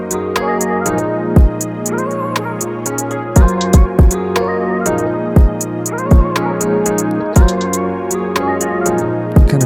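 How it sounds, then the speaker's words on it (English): Crisp, bright hi-hat ticks run through a looping R&B beat, with accented hits over kick, bass and keys, loud and with no talk. "So I added these second hi-hats right here that sound like this."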